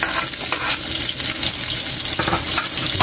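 Onion sautéing in hot oil with golden-brown garlic, a loud, steady close-up sizzle and crackle with light stirring, no talk.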